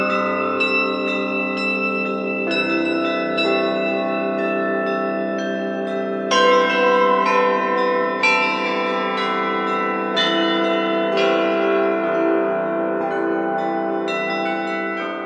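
Church bells of Mariana in Brazil ring loud and near, overlapping resonant strikes layering into a sustained, ringing peal with new strokes every second or so.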